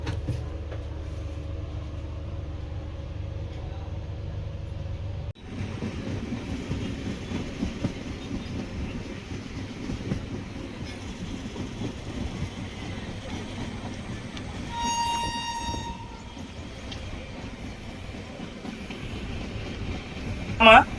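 The Tambaram to Rameswaram Express runs along, heard from on board as a steady rolling rumble and rhythmic wheel clatter that jumps louder after a few seconds, with a brief higher tone near the end.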